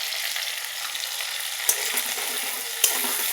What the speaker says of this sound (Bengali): এই যে দেখছেন যে ভাজা হচ্ছে।